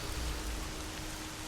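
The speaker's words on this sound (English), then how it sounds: "And it's still raining." Rain falling in S.T.A.L.K.E.R. Shadow of Chernobyl, a brief steady hiss of rain on surfaces, even and moderately loud throughout.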